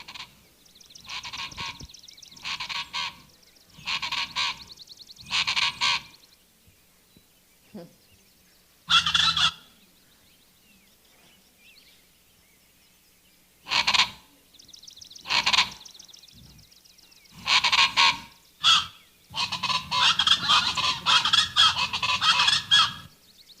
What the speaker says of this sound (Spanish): Esa es la chachalaca.